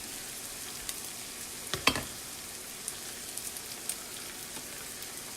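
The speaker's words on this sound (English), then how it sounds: "our hamburger and stuff nice and fried" Hamburger meat sizzles in a frying pan for homemade sloppy joes, a steady faint hiss with a few brief louder crackles and a short stir of the pan partway through.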